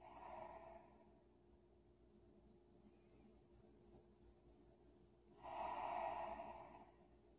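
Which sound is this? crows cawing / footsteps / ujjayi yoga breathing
ujjayi yoga breathing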